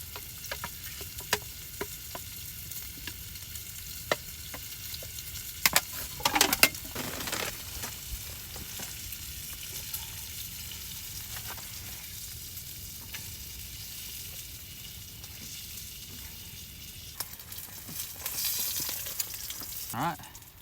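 Bacon frying on a camping griddle over a fire gives a continuous close sizzle and crackle, with scattered sharp pops and a few scraping stirs, steady across the whole stretch with no voices.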